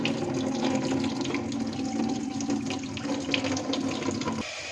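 Water drains from washed taro leaves, pouring and splashing steadily nearby like draining into a sink, easing off slightly at the very end.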